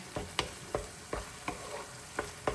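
Potatoes and corned beef with a splash of olive oil are stirred in a pan, with a regular series of sharp spoon scrapes and taps roughly every third of a second over a low sizzle.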